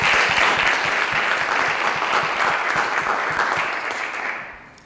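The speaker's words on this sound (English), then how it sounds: "I just want to call for one more round of applause." A school committee meeting audience gives a round of applause, a full, sustained roar of clapping that holds steady and then begins to fade at the end.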